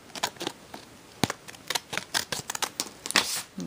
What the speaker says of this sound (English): I'm just going to grab some scissors and trim off this bottom part.